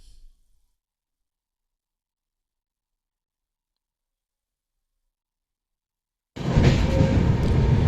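A train rumbles steadily at a railway station, loud and near after several seconds of silence, with a continuous rolling roar.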